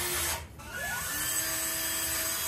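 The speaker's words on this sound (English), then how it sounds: "When I get the drill." A handheld power drill runs while a Polyformer kit is assembled, its motor whine holding steady after a brief dip and restart, close and continuous with no talking.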